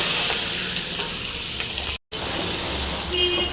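Masala with small sambar onions, ripe chillies, garlic and ginger frying in oil in a pan for eggplant curry, a loud, close, continuous sizzle with a momentary dropout midway and faint clinks near the end.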